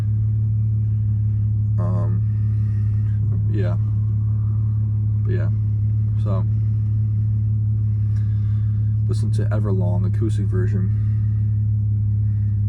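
Steady low engine rumble inside a moving car runs continuously beneath a person talking at intervals throughout.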